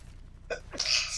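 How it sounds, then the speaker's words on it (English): A single close sneeze, a short indrawn breath followed by a sharp, hissing burst. "I gotta sneeze"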